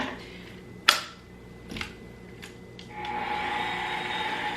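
An electric hand mixer starts up and steadily whirs through pound cake batter with an egg, after a few clicks and knocks from handling, running as a continuous buzzing hum for the last couple of seconds.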